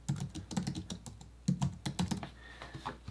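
Typing on a computer keyboard, with quick irregular bursts of close, crisp key clicks and a short pause near the end.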